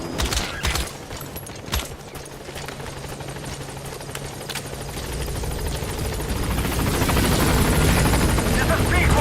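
In Metal Gear Solid V, a support helicopter approaches a landing zone, its rotor thrum swelling from faint to loud and close, with sharp clattering noises early and a voice speaking over radio.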